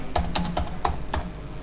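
Keys clatter on a computer keyboard as a name is typed in, a short burst of quick, irregular clicks close up with no talking.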